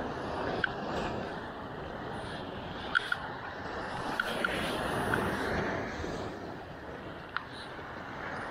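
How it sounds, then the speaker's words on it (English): Ocean waves wash against a rocky Jamaican shoreline as a soft, continuous far-off rush, with a few faint clicks and knocks. "Listen to the waves."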